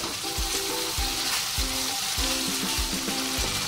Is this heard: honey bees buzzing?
no